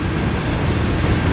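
A long CSX manifest freight train, Q580, with rack empties and ES44AC and AC44 locomotives, passes southbound near Dalton. Its heavy, dense rumble and rolling noise stay loud and close throughout.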